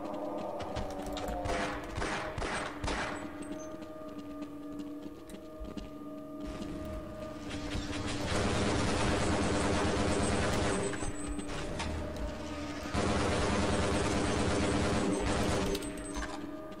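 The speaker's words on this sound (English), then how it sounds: "I think you can shoot that thing down." Rapid weapon fire in the video game Half-Life: Decay, with clustered shots in the opening seconds followed by long stretches of dense continuous automatic fire, loud and steady with a mechanical rattle.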